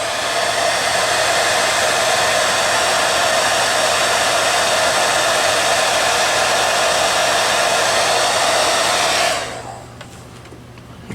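Steady, loud airbrush hiss spraying Hobby Lobby acrylic airbrush paint, a continuous broadband rush with a faint tonal hum that cuts off near the end, leaving quiet room noise.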